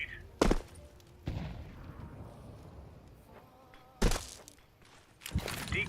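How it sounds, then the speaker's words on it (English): A grenade being thrown in Counter-Strike 2, with sharp, loud impacts and bursts, a thud-like release and bouncing noise, then a low rumbling tail and further cracks near the end. "Throwing a grenade."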